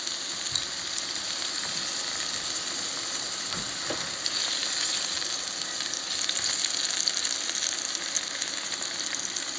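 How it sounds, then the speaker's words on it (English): Chopped ingredients for huevos a la Mexicana fry in a hot pan, giving a steady, dense sizzle with small crackles throughout and no talking. "So we're going to fry this up."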